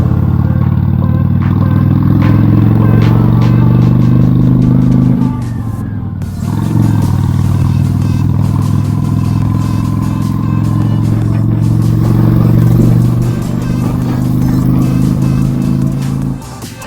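A motorcycle rides along an open road, its engine droning loudly and steadily at close range with a brief dip partway through before the revving returns, wind and road clatter mixed in.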